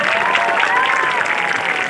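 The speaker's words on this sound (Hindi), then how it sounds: "जोरदार करताली पिला मारे" A crowd claps steadily and fairly loudly at a Utkal Divas 2022 celebration in Kutra, Sundargarh district, Odisha. The applause is dense and even for the whole two seconds.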